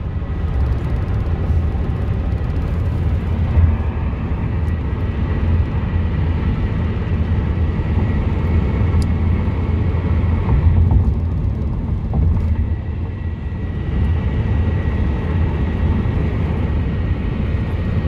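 A wind turbine turns in the open, heard as a loud, steady low rumbling whoosh that holds constant throughout with no voices.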